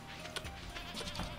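Goats bleating in the farming game Stardew Valley, a couple of short wavering bleats heard faintly over soft background game music.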